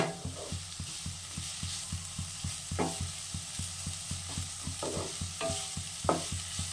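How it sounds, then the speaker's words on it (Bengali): Radish and shrimp frying on high heat in a pan, a steady close sizzle broken by regular rhythmic scrapes of a spatula stirring, with a few sharper clinks. "এবার আগুনটা জোরে দিয়ে ভাজা ভাজা করব।"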